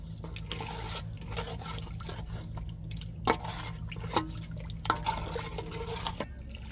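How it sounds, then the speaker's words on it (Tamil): Water splashes and drips into a cooking pot in short irregular bursts over a low steady hum, close by with no talking. "இப்போ தேவையான அளவு தண்ணி ஊற்றியாச்சு."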